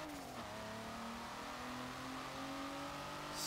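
A 2018 Kia Stinger GT V6 in Forza Motorsport 7 revs steadily, its engine note climbing through a gear change and holding a loud, continuous drone with no talking.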